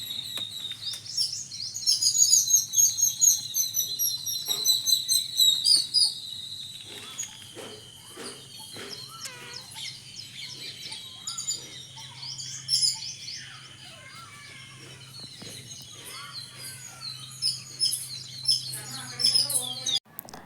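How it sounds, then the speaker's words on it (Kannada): Birds chirp and twitter steadily through early morning air on a farm, with insects trilling beneath and a low steady hum underneath; no talking. "ಅಲ್ಲಿ ಪಕ್ಷಿಗಳು ಚಿಲಿಪಿಲಿ ಸೌಂಡು ಕೇಳೋದೇ ಒಂಥರ ಚಂದ"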